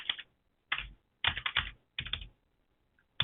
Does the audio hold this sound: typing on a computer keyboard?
yes